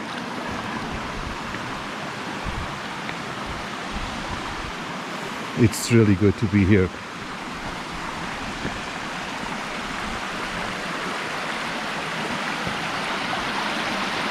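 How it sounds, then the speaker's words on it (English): Fresh mountain water flows steadily into a natural swimming pool in Piódão, Portugal, a constant close rushing wash with a voice speaking briefly partway through. "Can you imagine all this water all day coming to that natural swimming pool?"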